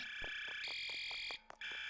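A repeating alarm blares through a Roblox horror game, with steady high tones interrupted briefly near the end, sounding loud and close over faint background noises.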